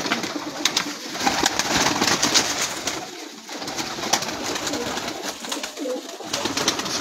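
Flying pigeons kept on a rooftop coo repeatedly, soft and near, against a background of light clicks and flutters from the birds.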